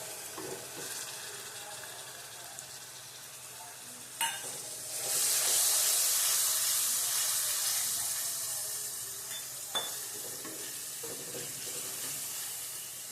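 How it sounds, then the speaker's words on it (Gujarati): Hot oil sizzles as soaked spice paste for papaya curry goes into the pan, with a sudden loud hiss that swells and slowly fades, joined by a few sharp knocks of stirring. "અને હવે નાખીશું આપણે પલાળેલો મસાલો"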